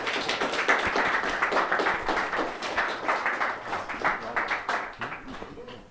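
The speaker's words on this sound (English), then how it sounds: "Give a round of applause, y'all." A small audience claps at a live show in an intimate room, with distinct claps in a fairly dense rhythm that thins out toward the end.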